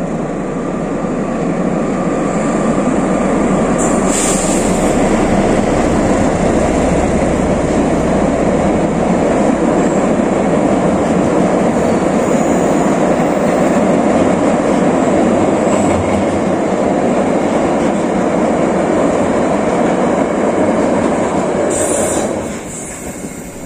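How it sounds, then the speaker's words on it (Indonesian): An Argo Wilis passenger train running from Bandung to Surabaya Gubeng crosses the Cirahong bridge, giving a loud, steady rumble and rattle of cars that holds for about twenty seconds before easing off. No voices are heard. "itu dia kereta api Arguilis relasi Bandung Surabaya Gubeng sedang melintasi"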